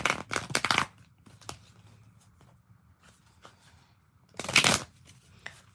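Tarot cards are shuffled close up in two quick riffling bursts, one at the start and one near the end, with soft handling taps between them.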